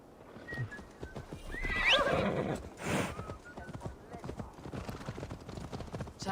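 A horse in Assassin's Creed Valhalla whinnies loudly near the start, a rising squeal, while hooves clip-clop on and off beneath game voices and ambient sound.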